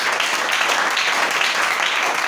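A church congregation applauding together, dense steady clapping that stays loud and even from start to finish, with no voices standing out.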